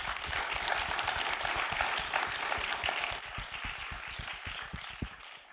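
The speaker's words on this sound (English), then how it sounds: "If you join me in giving them a warm round of applause." Steady audience applause at a business panel event, many hands clapping together in a dense, continuous patter that thins slightly toward the end.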